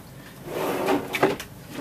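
A kitchen drawer slides open inside a Coach House Platinum 271 XL FD motorhome, a short, close wooden rumble that ends in a soft knock, with no voices.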